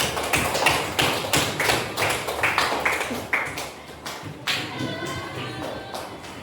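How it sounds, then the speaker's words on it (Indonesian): Classroom applause for a student, a brisk burst of many hands clapping close by, loud at first and then thinning out while a voice talks over the end. "Tepuk tangan untuk Gibran."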